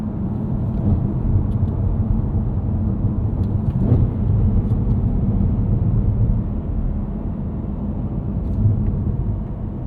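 The supercharged V8 of a 2024 Cadillac CT5-V Blackwing drones in a deep, steady rumble while cruising a backroad, heard from inside the car with little change in pitch.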